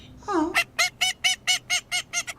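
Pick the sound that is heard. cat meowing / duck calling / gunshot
duck calling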